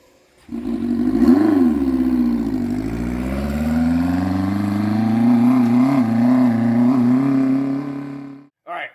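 A crosskart's engine drives around a yard, droning steadily with rising and falling pitch for about eight seconds, loud and close, then cuts off briefly before a short burst returns at the end.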